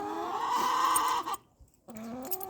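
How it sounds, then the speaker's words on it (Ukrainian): Chickens and roosters cluck and squawk loudly up close in a backyard coop in January, a brief busy burst, then a short pause before more clucking resumes. "Кури клюють півня."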